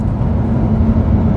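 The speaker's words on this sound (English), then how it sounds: "Now the Huracan has a wonderfully unique launch control." A Lamborghini Huracan with 602 horsepower on launch control gives a steady, loud, deep engine rumble that holds its level for the full second and a half, with no voices.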